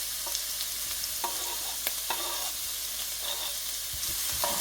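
Onion, scallion and pepper sautéing in oil in a pot for a tofu scramble make a steady hissing sizzle, broken now and then by soft stirring scrapes, close by and with no one talking.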